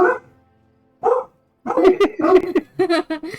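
Several dogs bark in bursts from another room, a short yelp followed by a cluster of overlapping barks, fairly close and loud against a quiet indoor background.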